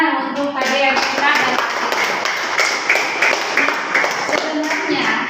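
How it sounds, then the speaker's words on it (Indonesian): A classroom audience claps together during a coding lesson, a dense patter of many hands sustained for about five seconds at moderate loudness, with voices mixed in. "Kita beri tepuk tangan untuk KDM kita."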